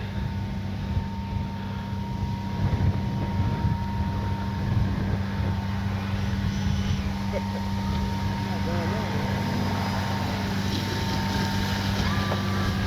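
A Freewing Zeus 90mm EDF RC jet on 6S power coming in to land in strong wind: a steady, distant electric ducted-fan whine with low rumble, continuously buffeted by heavy wind noise across the microphone.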